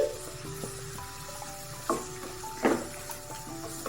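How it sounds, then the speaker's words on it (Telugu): A large capsicum, thinly sliced, frying in a pan of tomato masala for an aloo capsicum gravy: a steady low sizzle with scattered spoon clicks and two louder scrapes near the end, no voices. "అందులో ఒక పెద్ద సైజు క్యాప్సికమ్ సన్నగా తరుక్కున్నది దీన్ని వేసి"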